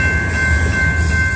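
A train rolls past on the rails with a loud, continuous rumble and steady metallic hiss, close by and unbroken, with a thin high whine running through it and no voices.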